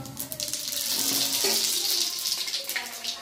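Panch phoron spices and vegetables hitting hot oil for Bengali shukto, a loud burst of crackling sizzle close by that holds through the moment with a few spits and pops.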